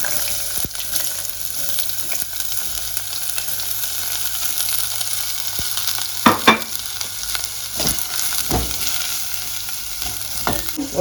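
Chopped onions fry loudly with mustard seeds and fennel in an oiled pan for a bitter gourd kuzhambu, a steady close hiss with sharp crackles and spatula scrapes, no voices.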